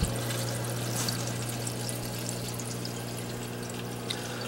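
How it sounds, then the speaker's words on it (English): Water from aquarium overflow drains pours steadily down through a coarse filter pad, a close, continuous trickling rush over a low pump hum, with no speech. "the water is coming in through the drains here, coming down through the 1-inch coarse filter pad"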